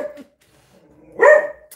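A dog gives one loud, close bark after a short faint yip, indoors during a live cooking stream.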